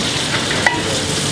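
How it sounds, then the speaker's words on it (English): Garlic butter meets a hot pan, where chicken breast is being cooked, and gives a brief, close, steady sizzle with a small clink partway through. Nobody talks. "I'm just going to add my garlic butter."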